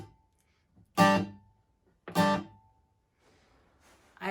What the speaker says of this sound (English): So a full palm mute would sound like this